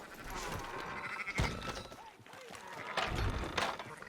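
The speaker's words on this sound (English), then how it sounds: "Fine sheep." Sheep bleat in Red Dead Redemption 2, a few wavering calls mixed with hoof clops and ambient game sound, with a voice talking faintly underneath.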